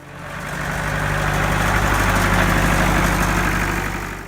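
A John Deere 2010 tractor engine runs at a steady idle, a close, even low-pitched chug with a constant vibrating drone that swells slightly and holds throughout.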